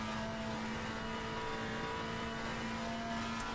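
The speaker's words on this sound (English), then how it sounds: "You can hear Dusan just lifting just a little bit in the right-hander." Race car engine in a sim racing game at Slovakia Ring, a steady loud drone that eases slightly as the driver lifts off the throttle in a right-hand corner.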